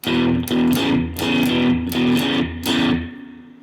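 Electric guitar plays a chugging blues rhythm in E, repeated strummed chords in a steady shuffle, loud and slightly distorted, with no voices.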